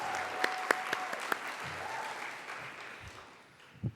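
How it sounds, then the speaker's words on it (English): Applause for an honoree at a business hall of fame ceremony, with a handful of sharp individual claps standing out over the crowd's clapping, which steadily thins and fades toward quiet over a few seconds. "Let's give another round of applause for Michael."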